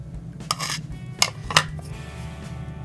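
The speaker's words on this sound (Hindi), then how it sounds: "और अंडा शामिल करने के बाद हम इसे अच्छी तरह से मिक्स कर लेंगे" Egg and chopped almonds being mixed in a pan for badami rasmalai: a few sharp clinks of a spoon against the pan over a low steady hum, three distinct knocks spaced about half a second apart, no voice.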